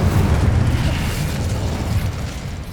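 An Incendio fire spell blasts in the Hogwarts Legacy video game, a heavy, continuous low roar with rumbling bursts that stays loud for about three seconds, with no voices.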